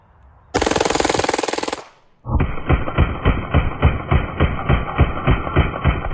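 A full-auto FN Five-SeveN pistol fitted with a CMMG magazine extension fires a loud, rapid sustained burst, falls briefly silent, then lets off a long string of sharp, evenly spaced shots up close.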